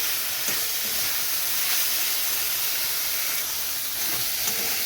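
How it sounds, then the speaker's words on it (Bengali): Chicken mince fries in a spiced pan with a loud, continuous sizzling hiss, near and steady, with faint scattered knocks of stirring and no talking. "তো চিকেনটা খুব ভালো মতো কষাতে হবে।"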